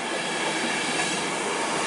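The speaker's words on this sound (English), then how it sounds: "And this is my train for London." A train rumbles steadily at a station platform at Grantham, with broad, continuous rail noise and a hint of metallic wheel hiss, loud and close throughout.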